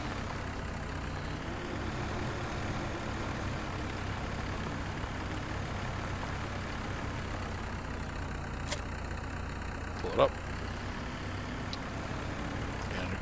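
Steady low tractor engine idling in Farming Simulator 17, a continuous heavy rumble held at even loudness with a brief mechanical clunk near the end.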